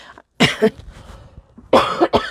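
Two harsh bursts of coughing, close to the microphone, the first a double cough and the second a longer rough fit after a short pause.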